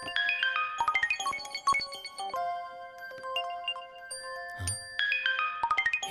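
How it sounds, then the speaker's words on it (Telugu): Several mobile phones ring at once with overlapping melodic ringtones and chiming notes, clear and fairly close, in bursts that layer over each other, no speech. "ఏంటన్నా అందరి ఫోన్లు ఒకేసారి మోగుతున్నాయి?"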